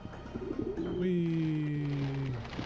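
Birds in the video game Shenmue coo and flutter, with a long drawn two-tone call sustained for over a second, fairly close and clear above a low background.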